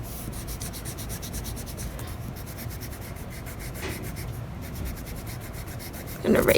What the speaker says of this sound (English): You're going to take your eraser and very gently, those center lines we drew, the shapes around are going to be erased.